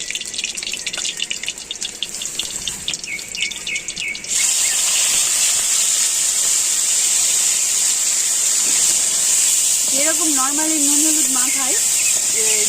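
Salted, turmeric-rubbed dried fish dropped into hot oil in a kadai bursts into a loud, steady sizzle that continues throughout, with a voice talking in the first part and some clinking near the end.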